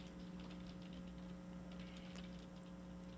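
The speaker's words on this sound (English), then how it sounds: "Oh wow, you're typing a lot there." Rapid, uneven clicking of keys on a computer keyboard continues for several seconds, faint and close, over a steady electrical hum with no talking.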